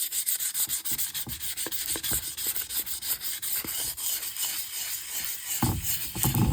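Dried plaster on a concrete or ceramic Smurf figurine is sanded by hand in steady, close, rhythmic rasping strokes that repeat without pause, with a brief louder scrape near the end.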